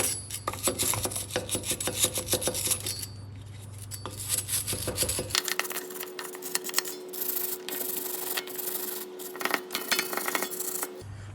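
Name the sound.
wire brush scrubbing rust off a Ford Ranger brake hub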